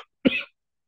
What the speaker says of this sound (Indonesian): Aduh, ini apa saya batuk terus.